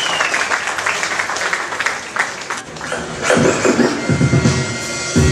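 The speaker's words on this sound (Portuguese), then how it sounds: "Eu quero uma grande palmas para o Vitor." A crowd applauds at a live Portuguese-language stage event, with loud, mixed clapping and room noise that dips midway, then swells again with heavier thumps toward the end.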